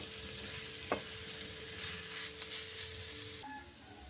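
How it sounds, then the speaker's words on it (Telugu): Carrot and bitter gourd stir-frying with turmeric and salt give a soft, continuous sizzle with a few clicks and scrapes from stirring. The sound stays faint and even and is heard alone. "పసుపు, సాల్ట్ వేసి పూర్తిగా మనకు ఇది పచ్చివాసన పోయేంత వరకు కలుపుతూ ఫ్రై చేసుకోవాలి."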